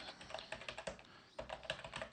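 Rapid keystrokes on a computer keyboard, an uneven run of clicky taps close by with a brief pause midway, no voices.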